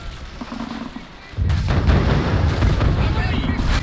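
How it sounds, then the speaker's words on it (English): Grenade blasts and gunfire in the war game Men of War, a heavy boom cutting in partway through and then a dense, loud rumble of battle noise with speech mixed underneath. "He's like chucking grenades and stuff."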